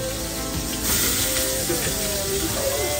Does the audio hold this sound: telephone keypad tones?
no